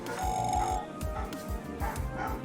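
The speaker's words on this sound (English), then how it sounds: "One of my dogs barking in the back." A dog barking repeatedly somewhere in the background at home, short yips and bow-wows under game music and light talk.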